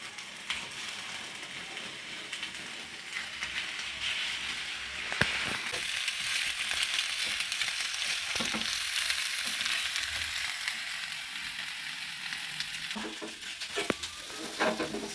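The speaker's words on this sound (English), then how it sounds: "So now we're going to start frying our chicken first." Steady, dense sizzling of chicken browning in a hot pan, continuous and close, with a few brief clanks of utensils.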